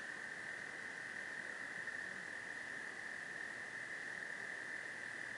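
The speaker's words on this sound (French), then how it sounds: "vous avez comme fond sonore la vie autour du lac avec les crapauds et les gens qui se baignent" Toads croak steadily around a lake in the distance, a continuous dense chorus with a thin sustained trilling tone over faint background hiss, no talking.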